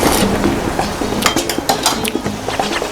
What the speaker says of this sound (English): Let's try the rice for the third time with a clean spoon in a different place.